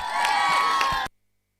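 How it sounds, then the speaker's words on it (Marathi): A crowd at a cricket tournament prize ceremony bursts into about a second of cheering and clapping, loud and close, then cuts off abruptly into silence. "टाळ्या वाजवा"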